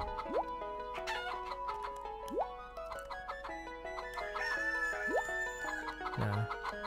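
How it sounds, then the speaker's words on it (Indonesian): Chickens in Harvest Moon: Save the Homeland cluck repeatedly in short, chirpy game-sound bursts, with a brief rooster-like call near the end, playing alone over steady background music. "Ayam-ayamku di dalam kandang aja ya."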